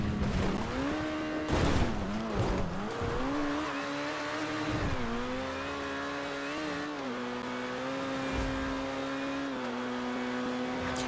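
An Overflod Entity MT supercar in GTA 5 Online drives with a sustained, high-pitched engine whine that rises and dips through gear shifts. Brief bursts of tire noise or impacts come early, and the car stays loud and close throughout.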